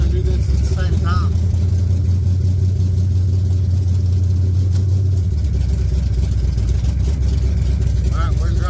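A 1980 Trans Am's V8 holds on the trans brake, a loud, steady low engine drone close up that shifts pitch partway through, with rattling and a voice now and then.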